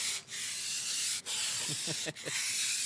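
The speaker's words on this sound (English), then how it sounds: "we're trying to scrape off a windshield" A scraper is dragged over an icy car windshield in cold Michigan weather, making long, loud, gritty rasping strokes. Each stroke runs close and continuous and is broken by short pauses, and no one talks.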